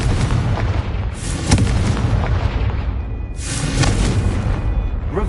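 A Confringo fire spell bursts in Hogwarts Legacy gameplay, a heavy booming blast with a rumbling tail, followed by a second loud burst about three seconds later, with no talk over it.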